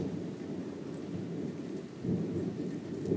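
A thunderstorm with lightning, dark clouds and steady rain, a continuous wash of rainfall under low rolling thunder that swells louder near the end, with no voices.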